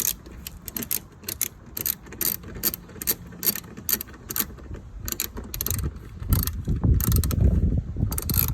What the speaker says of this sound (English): I'm just going to screw this down just a little tighter